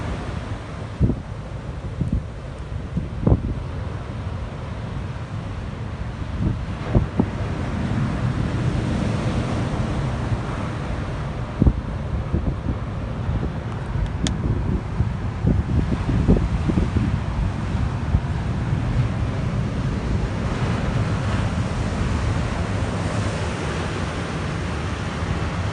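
Waves roll and wash up on shore continuously, with gusts of wind buffeting the microphone and no voices.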